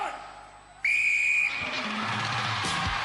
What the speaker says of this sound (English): Wait for the whistles, the line says.